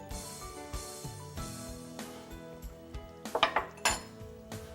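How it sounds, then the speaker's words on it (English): A spoon stirs Sunday red sauce with Parmigiano Reggiano and black pepper in a pot, making quiet metallic scrapes and knocks that end in a quick cluster of louder clinks against the pot. "Give it a stir"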